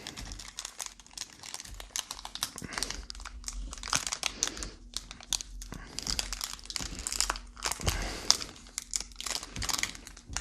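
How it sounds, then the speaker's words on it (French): A Magic: The Gathering Kamigawa Neon Dynasty booster pack is wrestled open, with close, busy foil crinkling, crumpling and short tearing bursts over several seconds, and faint voices in the background. "Fait que le booster, on l'ouvre tout de suite."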